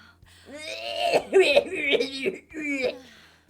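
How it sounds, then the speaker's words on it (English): Persona 5 Royal game character coughing and groaning, several rough voiced coughs in quick succession, loud and close with no other sound. "I can't stop coughing."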